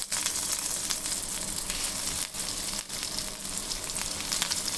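Bread slices shallow frying in hot oil give a steady, dense sizzle with a crackling hiss that stays loud and even throughout, briefly dipping twice, with no talking.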